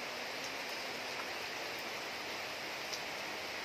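Light rain falls on freshly cleared land where leftover brush from clearing still lies unburned, a soft, even hiss of drops running steadily and faintly with no voices.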